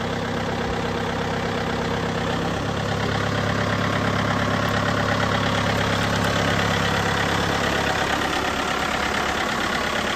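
A 2008 John Deere 110 runs steadily while being operated, its diesel engine giving a loud, close, constant chugging drone with a slight knock, rising a touch in load partway through, with no voices.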